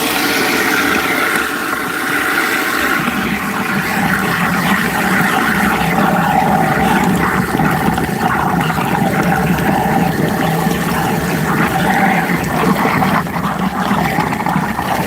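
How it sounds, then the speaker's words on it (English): A food waste grinder churns up scraps that spill over the top, giving a steady, loud, continuous watery grinding roar that runs unbroken throughout with no talk. "And we're just grinding it up and letting it spill."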